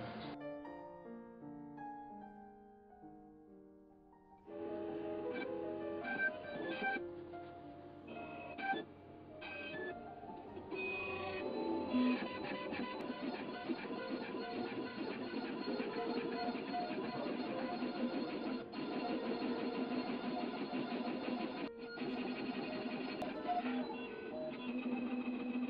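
A cutting machine works through material with a busy, close mechanical whirring and rhythmic motor steps, starting quiet and then running steadily louder for most of the stretch, with no voice over it.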